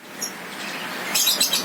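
A Medan white-rumped shama (murai batu) sings in a few short, bright, high-pitched chirps and trills, close by and fairly clear against faint background noise.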